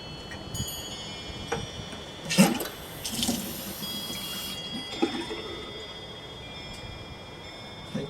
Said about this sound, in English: Let's turn the water on and see what happens.